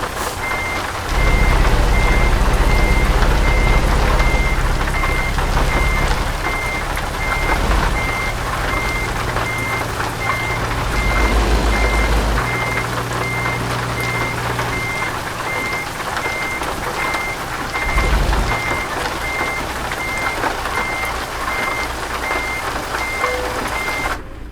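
Truck in American Truck Simulator backing up a trailer, its reversing alarm beeping steadily and loudly over a low diesel engine rumble that rises and falls, no talk.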